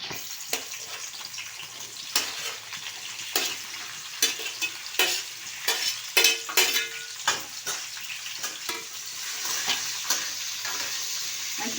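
Okra (bhindi) fries in hot oil in a steady, bright sizzle, broken by repeated sharp scrapes and clacks of a spatula stirring the pan up close.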